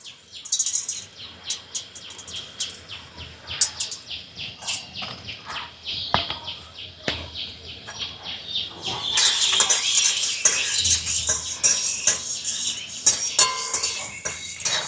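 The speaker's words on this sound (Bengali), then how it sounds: "প্রথমে আমি গোটা শুকনো লঙ্কা আর গোটা গোলমরিচগুলো দিয়েছি, কারণ এগুলো ভাজতে একটু বেশি সময় লাগে।" Whole dried red chillies and black peppercorns dry-roasting in a lightly heated wok, with steady metallic stirring clatter and scraping, busiest in the second half, while birds chirp throughout in the background.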